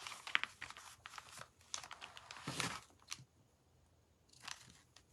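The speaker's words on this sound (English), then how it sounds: "Maybe I shouldn't be using my fussy cut scissors for ribbon." Fussy-cut craft scissors snipping through ribbon at a journaling desk, a series of close, crisp snips and crinkly cuts coming in irregular bursts with short pauses between them.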